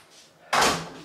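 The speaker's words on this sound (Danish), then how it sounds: "Og lige luk døren også" A door is pushed shut once with a single soft thud, heard from inside while shopping bags are carried in from the cold; nobody speaks and a quiet hiss hangs in the background.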